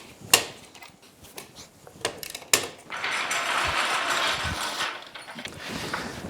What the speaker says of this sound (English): let's go ahead and break the lug nuts loose